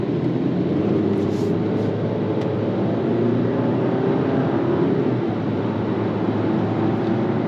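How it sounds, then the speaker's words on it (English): Engine of a 2023–2024 Dodge Hornet GT AWD while driving, heard from inside the cabin as a smooth, steady low hum blended with road noise, even and unbroken. "Now you can hear the engine."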